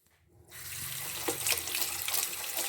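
Tap water runs in a steady, close splash while freshly picked drumstick leaves are washed for a Kerala-style curry; the flow starts after a brief quiet moment and continues without any talk.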